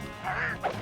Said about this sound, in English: Wait, that one just made a Donald Duck sound.